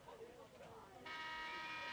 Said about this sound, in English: And there is the final buzzer.